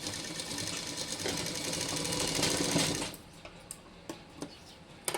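A sewing machine stitches a baby frock, running steadily and loud for about three seconds before stopping, followed by a few light ticks and clicks.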